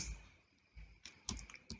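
Ctrl+H pressed on a computer keyboard, giving a few quiet, sharp key clicks scattered over under two seconds with faint hum between.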